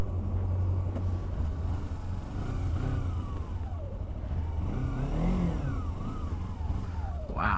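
Kawasaki Ninja 250 motorcycle on the road, its engine revving and accelerating through rising pitch sweeps, loud and close over steady road and wind rumble.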